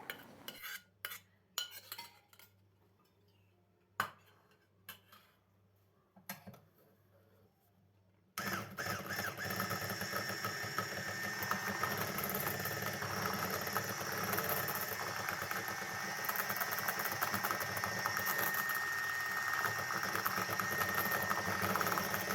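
Cake batter with margarine whisked in a bowl: scattered clinks and scrapes at first, then a loud continuous whirring mixer that runs steadily to the end.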